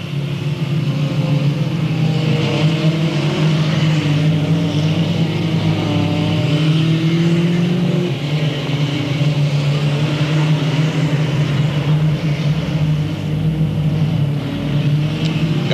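Race cars roar around Delta Speedway in a 2000 event, engines droning loud and continuous with pitch rising and falling as cars jostle for the lead, steady throughout with no voices.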